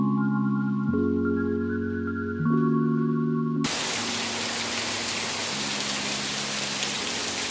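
A few seconds of sustained droning tones give way abruptly to a loud, steady hiss of evening rain in a village that continues to the end.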